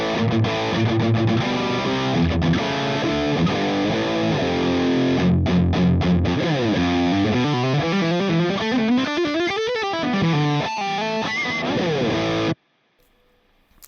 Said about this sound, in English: distorted tones.